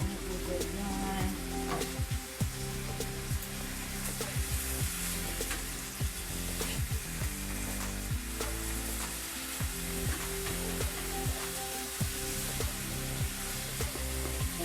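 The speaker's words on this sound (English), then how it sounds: "Go ahead and turn over the oxtails on another side so that they can brown on that side." Jamaican-style oxtails browning in a frying pan, a continuous loud sizzle with crackling spits and scraping clatter as the pieces are turned.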